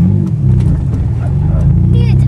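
A snow plow vehicle with a nearly dead battery pulls away in first gear with a low, rumbling engine drone, close by, while people talk over it.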